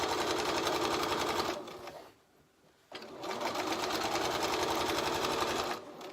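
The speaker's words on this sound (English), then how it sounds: "So every time you stitch, you're getting closer and closer to your piping." A sewing machine runs steadily, stitching piping onto a cosy cover; a continuous close whir drops away briefly near the middle, then picks back up and carries on.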